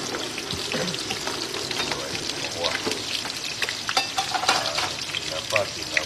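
Garlic and onions sautéing in a pan for a Filipino tomato, eggplant and smoked-fish dish: a dense, bright sizzle with frequent clatter of stirring, up close and fairly busy throughout.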